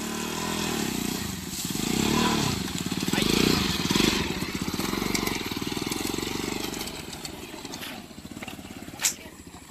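A motorcycle stuck in sand revs hard and close by in rising and falling bursts of rough engine noise, while people talk over it.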